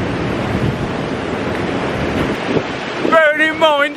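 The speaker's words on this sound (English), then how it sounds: "It's been very loud up here and the sound of the waves." Steady roar of surf and wind noise buffeting the microphone in Wales on the 1st of November, with a brief tonal whine or whoop near the end.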